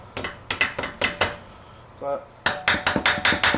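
Sharp hammer blows strike a Briggs engine part during a teardown, close and loud, falling in quick uneven bursts with a brief pause midway, where one short spoken word breaks in.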